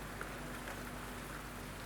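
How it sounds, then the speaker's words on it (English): Steady rain falling outside, an even soft hiss of drops with no breaks, heard at a low level with a faint hum beneath it and no voices. "Rain continues outside."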